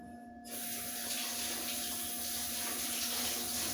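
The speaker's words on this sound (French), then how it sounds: "Je vais la laver les mains." Water gushes steadily from a running tap as hands are washed beneath it, starting abruptly and continuing as a close, even splashing rush.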